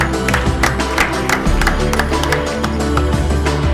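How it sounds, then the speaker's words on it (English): Audience clapping at a BNI Team ENRG event, dense and continuous crowd applause with sharp overlapping claps held at a steady loud level throughout. "Can we have a big round of applause for them"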